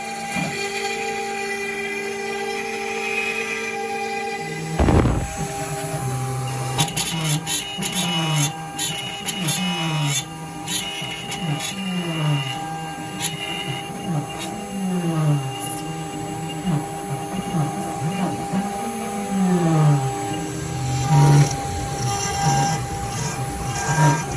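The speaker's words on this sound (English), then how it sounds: "Using the 60-degree tool now just to carve the plug." A CNC machine with a 60-degree tool carves an oak inlay plug for an endgrain chopping board. After a quiet start it becomes a loud, steady whine whose pitch sweeps up and down as the cutter moves, running continuously.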